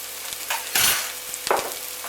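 Crushed jarred garlic going into a hot pan with a sizzle and a brief stir, a steady frying hiss broken by a couple of louder spoon-scrape bursts, heard close up.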